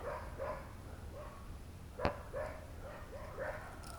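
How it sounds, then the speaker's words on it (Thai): A dog barks repeatedly at night in a steady rhythm of single yaps, fairly distant and faint against a quiet outdoor background, with one sharp nearer knock midway. "หมาก็เห่าครับผมหมาเห่าชิบหาย"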